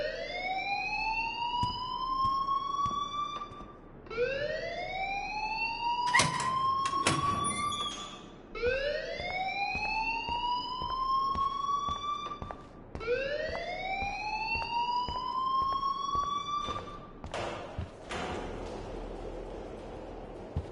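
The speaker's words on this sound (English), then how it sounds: "please turn off that alarm since that's your job" An alarm rings inside a video game, a loud wailing tone sweeping upward in four repeated cycles, with a couple of brief sharp clatters between them and no talking.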